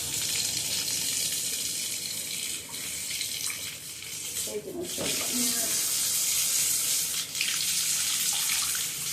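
Water pours continuously from a shower tap, a loud steady rush close by, while a person speaks briefly partway through and small knocks and shifts break in now and then.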